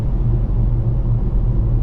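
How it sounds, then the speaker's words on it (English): Steady low road rumble inside a new Hyundai Kona cruising on a motorway, a loud, constant droning hum with no voices. "But now we're on the motorway. Yes, there's noise in here."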